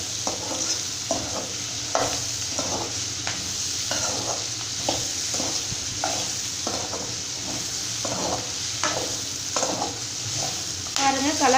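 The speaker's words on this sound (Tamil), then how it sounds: "காயை வந்து பார்த்திங்க அப்படின்னா இந்த ஆயிலே நல்லா இந்த மாதிரி வதக்கிக்கணும்" Brinjal sautés in hot oil with a steady sizzle, broken by a regular rhythm of spoon scrapes and stirring strokes against the pan, close and fairly loud.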